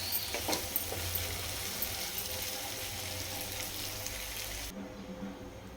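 Water poured into a pan of simmering gongura prawn curry, a soft steady pouring hiss over gentle sizzling that cuts off near the end, heard close and quiet.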